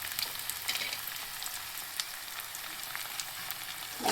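Onions and coriander fry in oil, a soft continuous sizzle with a few light stirring taps, fairly quiet and close, with no voices.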